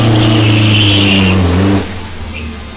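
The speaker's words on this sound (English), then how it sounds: "Just a burnout." A pickup truck at a Bangkok car meet does a burnout, its engine roaring loudly at a held high rev with tire noise layered in, then dropping away sharply after almost two seconds to a quieter rumble.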